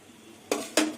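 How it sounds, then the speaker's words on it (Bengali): Yardlong beans are stirred in a pan with a metal utensil, giving two sharp scraping clanks about a quarter second apart against a quiet background. "বরবটি একটু নাড়িয়ে দেবো এপিটুপিট করে দেবো বরবটিগুলো"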